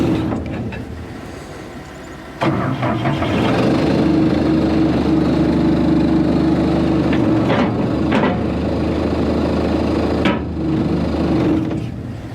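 A used excavator that was bought broken runs its diesel engine nearby, loud and steady. The engine rises to a higher, rougher pitch as the throttle opens and holds that roar with a few sharp clanks.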